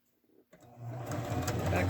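A sewing machine back stitching a cushion cover, starting after a quiet moment with a few clicks, then ramping up into a steady close whirring hum; a person is talking.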